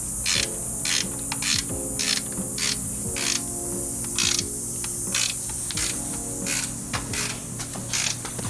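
A fitting on a 2025 BMW G80 M3 transmission cooler is tightened with a ratchet, repeated short clicking bursts at an even pace over a steady mechanical hum, close up with no talk.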